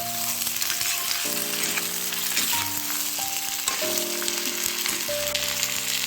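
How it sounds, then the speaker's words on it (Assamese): Chicken pieces and onion sizzle steadily in oil left over from frying potatoes, a continuous close, bright crackle with some stirring and no talk. "আলু কাঢ়ি লোৱা তেলতে এয়া পিঁয়াজ দি এয়া দিলোঁ কুকুৰা মাংসখিনি"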